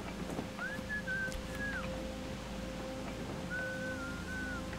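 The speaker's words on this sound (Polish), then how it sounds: "Ktoś tu se gwiżdża." Someone whistles in a forest level of the Metro Exodus Enhanced Edition video game, two sustained wavering notes heard at a distance over a steady low ambient hum.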